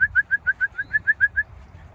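Racing pigeons settling at the loft after a 250-mile race give about ten soft, evenly spaced calls in a quick run, close by and alone over a low background rumble.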